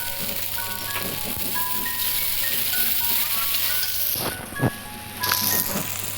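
Continuous sizzling in a pan as chopped tomatoes fry, with a couple of short clatters of stirring partway through.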